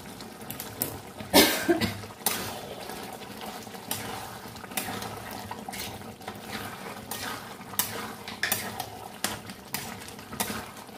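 Jackfruit curry being mixed with coriander leaves in a pan, a spoon scraping and stirring in steady strokes over a soft sizzle, with no talk.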